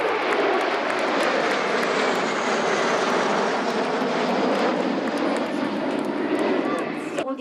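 Aerobatic patrol jets sweep past trailing tricolour smoke at the La Ferté-Alais air show, a loud, steady roar filling the whole stretch without letup, with a commentator's voice audible over it.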